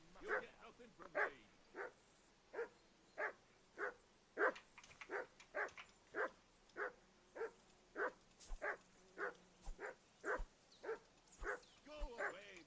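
A dog in the video game Kingdom Come Deliverance 2 barks repeatedly in a steady, evenly spaced run of about twenty barks, moderately close and fairly quiet, with a few faint clicks near the end.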